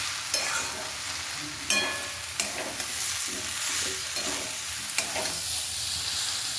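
Fried soybean chunks and potato are stirred into a spiced curry base in a pan, a constant moderate sizzle broken by several sharp spatula scrapes and clacks against the pan, no voices.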